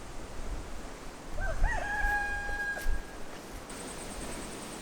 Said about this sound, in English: time for me to go and get the rooster.